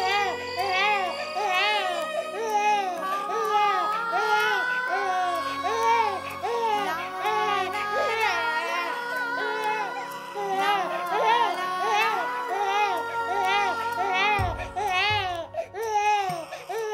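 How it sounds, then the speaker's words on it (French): Several babies cry loudly and continuously at close range, with overlapping wails and sobs that rise and fall, and fussing continues throughout. "Je n'entends rien à cause de ces maudits bébés."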